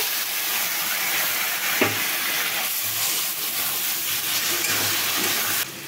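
Potatoes fry with a spice paste, cumin, ginger, garlic and green chilli in a loud, steady hiss and sizzle, with an occasional stirring scrape, close up and without talk.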